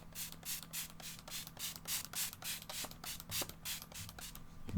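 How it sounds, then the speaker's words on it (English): A cosmetic setting spray spritzed onto a face as a light mist gives a series of short, airy hissing bursts in a steady rhythm, close and fairly quiet, with no talking. "I'm going to go ahead and actually spray a little bit of this on my face"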